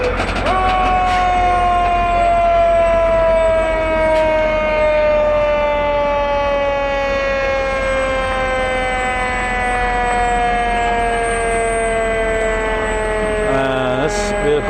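An Alburgh, Vermont fire department tanker truck rolls slowly in a Fourth of July parade, its siren wailing loud and close in long, steady tones that drop gradually in pitch over about fifteen seconds.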